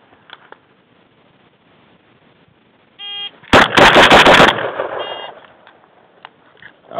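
Four rapid rounds of rifle gunfire crack out close and loud in a tight burst of about a second, after a brief beep, with quiet surroundings before and after.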